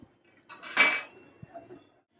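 A vegetable paratha being set on a pan for roasting, with one clear metallic clatter of cookware followed by a few light knocks in a quiet kitchen.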